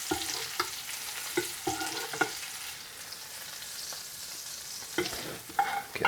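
Monkfish frying in red pepper butter in a pan, a gentle sizzle punctuated by several sharp spoon taps and scrapes as butter is basted, close and moderately quiet.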